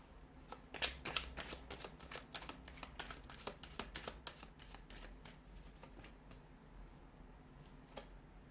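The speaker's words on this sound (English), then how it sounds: "So we'll give the cards a shuffle" Tarot cards shuffled by hand in quick riffling bursts, crisp and close, busiest in the first few seconds and then thinning to scattered flicks, with no talking.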